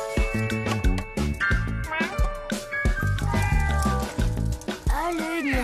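A cat meows repeatedly in long, wavering, insistent cries over a dense background of cartoon music, loud and close throughout.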